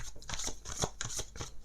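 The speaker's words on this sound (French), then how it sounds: "mélanger les cartes." Tarot cards being shuffled by hand, a run of soft riffling bursts and papery slaps in an irregular rhythm, close and fairly quiet with no talking.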